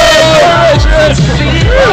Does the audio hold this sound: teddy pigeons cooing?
no